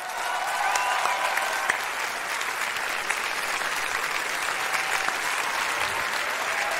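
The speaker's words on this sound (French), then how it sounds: "Je vous demande de faire un tonnerre d'applaudissements à quelqu'un" A theatre or comedy-show audience applauds steadily and loudly for an arriving performer, a dense continuous wash of clapping lasting several seconds with no talk over it.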